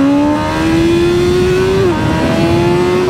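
A BMW M1000R motorcycle pulls hard through its gears, the engine note climbing loudly in a steady, close rising whine with a quick quickshifter drop in pitch midway before it climbs again.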